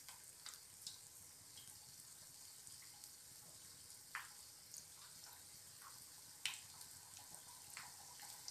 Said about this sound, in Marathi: तर आपण लॉलीपॉप तळून घेऊया